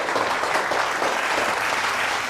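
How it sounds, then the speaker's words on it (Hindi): An audience at an open mic poetry show rises for a standing ovation, giving dense, steady clapping that fills the room throughout without any talk. "खड़े होकर ताली बजाने भाई"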